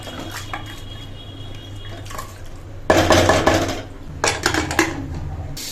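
A pressure cooker lid is fitted onto a pot of Hyderabadi katti dal with tomatoes: a few soft metallic taps, then a louder clattering of metal on metal and a couple of scraping clanks.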